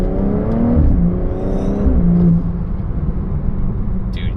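A BMW F30 340i with an XHP Stage 2 transmission tune accelerating hard in Sport Plus, a loud close engine note climbing in pitch through quick firm shifts, then settling into a steadier rumble.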